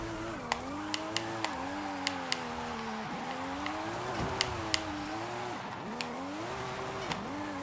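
Drift car in Forza Horizon 5, Formula Drift pack, with an engine howling steadily as revs rise and dip through long slides, a string of sharp clicks and ticks layered over it.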